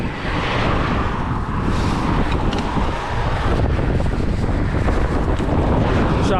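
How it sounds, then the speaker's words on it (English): Strong wind buffets the microphone on an open rural road near Stonehenge, a loud, continuous roaring rush with no letup and no voices. "If you can hear me over the wind."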